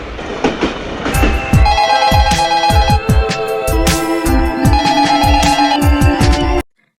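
A telephone bell rings loudly and continuously in rapid, clattering strokes with a bright metallic ring, then cuts off abruptly.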